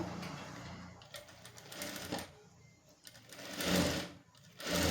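A sewing machine stitching fabric while loop stitching is being diagnosed, with a steady rapid mechanical whir that swells and eases in bursts over several seconds, close by.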